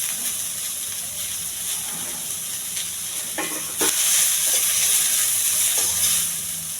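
Mushrooms and boiled chickpeas fry in a pan with onion, mint leaves, green chilli, curry leaves and ginger-garlic paste, giving a steady close sizzle and hiss, with stirring scrapes and a brief louder burst partway through.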